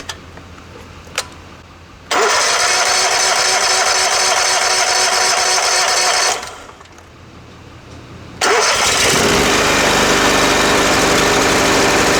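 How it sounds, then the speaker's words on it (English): A hay equipment engine on a farm, boosted with a jump pack, cranks and fires into a loud steady run, drops off briefly, then restarts and keeps running strongly, with nothing else heard. "We'll go get a jump pack and see if we can get it cranked that way."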